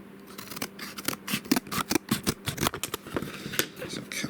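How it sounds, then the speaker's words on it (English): Scissors snipping through cardboard packaging around a SanDisk Ultra 128GB USB flash drive: a quick, uneven series of close, crisp cutting clicks and crunches. "So cut the end off the cardboard, open it up."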